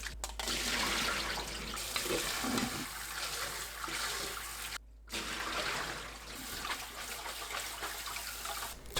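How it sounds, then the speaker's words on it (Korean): Water runs steadily from a tap while sliced sweet potatoes are rinsed in a kitchen, a close, continuous splashing rush with one brief break partway through and no talking. "10분 후 물에 헹굽니다."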